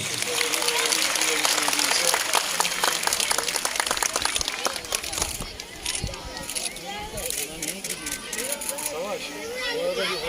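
Applause from a seated audience at a municipal summer sports school closing ceremony, steady dense clapping that gradually thins, with someone speaking over a loudspeaker at the same time.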